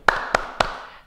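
Three crisp hand claps spaced evenly about a quarter second apart, part of a children's clapping game called "Tepuk pagi hari" at a Sunday school service, close and clear with a short ringing decay.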